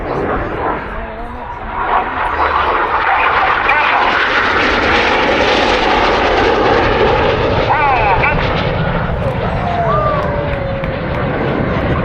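Red Arrows jets fly the opposition barrel roll, making a loud, continuous roar of jet engines that swells and holds steady overhead throughout, with no voices.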